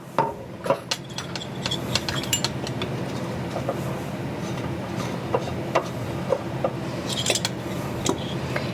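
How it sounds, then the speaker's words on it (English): Maple syrup icing whisked in a bowl with a utensil: steady scraping and stirring, with scattered metallic clinks against the bowl, close and continuous. "I'm just going to mix that all together and make me a nice little icing"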